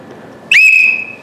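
A bus conductor's whistle gives one sharp, loud blast that swells and then holds a steady shrill tone for most of a second before cutting off, alone with no talk.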